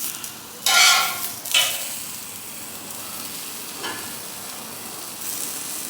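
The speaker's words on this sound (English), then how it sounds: "We just want to get a little bit of sear on both sides." Beef shanks for birria tacos sear in a hot pan with a steady sizzle, broken by a couple of sharp louder bursts as the meat is turned, close up with no talking.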